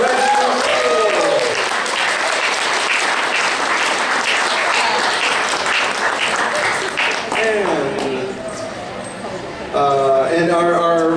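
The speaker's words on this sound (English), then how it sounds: "one more round of applause for Dredgimus Pool" Dense applause and cheering from a convention audience at a costume contest roll on for several seconds, then fade as an announcer speaks over the tail.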